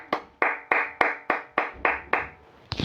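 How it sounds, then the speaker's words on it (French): One person slowly clapping hands about eight times in a steady rhythm, each clap sharp and close with a short ring, alone without talk. "On applaudit, les gars."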